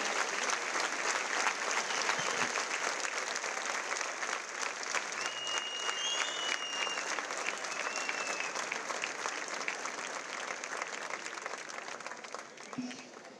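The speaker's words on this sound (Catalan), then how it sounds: "Un fort aplaudiment per aquesta joventut de la nostra ciutat que ens representa aquest any." Sustained audience applause at a civic festival presentation of Amposta's youth representatives, a dense steady clapping from a large crowd lasting throughout and tapering slightly toward the end, with no talk over it.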